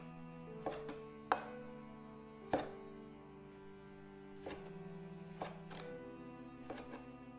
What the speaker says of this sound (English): We then cut the tomatoes into large wedges.